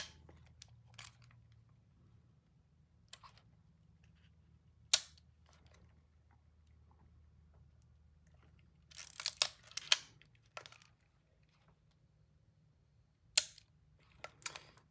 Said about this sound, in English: Oh, the shutter's like the tiniest click.